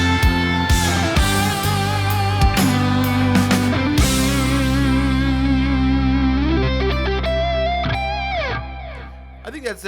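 An electric guitar plays through an effects unit with heavy distortion on a rock song, thick sustained chords and bending notes ringing loud and close, ending with a slide and a fade into a few short plucked notes.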